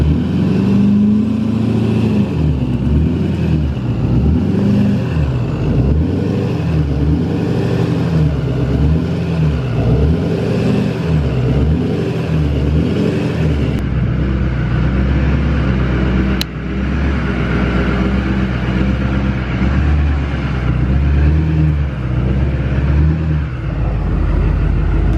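Duramax diesel truck on 40-inch tires crawling an off-road rocky trail, its engine a steady loud rumble with rhythmic surging revs as it rolls uphill, no voices.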